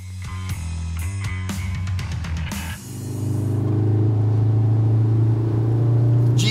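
Synthetic engine sound of a Cupra Formentor VZ with a 1.5 TSI engine, played through the cabin speakers: a low droning rumble that swells and holds steady, preceded by some tonal in-car sounds.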